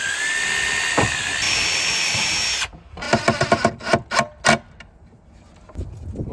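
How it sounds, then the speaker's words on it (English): A power drill pre-drills screw holes in a pine board: a steady high whine runs for a few seconds, then stops, followed by a series of short bursts of drilling and clattering, close up. "what I'm gonna do is pre-drill these holes so it doesn't split the wood"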